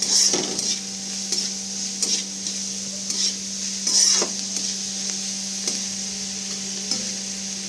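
Steady sizzle of salted onions frying in a pan with occasional stirring scrapes and clinks, close and moderately loud, no voices.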